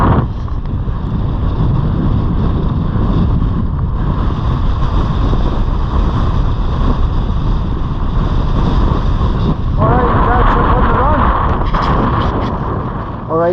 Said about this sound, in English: Quite windy, quite a bit of a headwind.